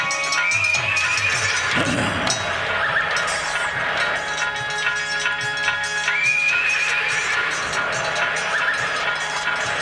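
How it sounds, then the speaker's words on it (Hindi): A horse whinnies twice in shrill, wavering calls amid a busy background of music at a devotional religious gathering. "हिन हिनाई के घोड़ा रे झपटो"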